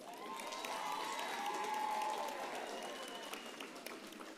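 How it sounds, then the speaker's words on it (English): Applause from a graduation ceremony crowd for a faculty of management sciences, steady and fairly loud throughout, with cheering and high ululating calls rising above the clapping. "Another big round of applause."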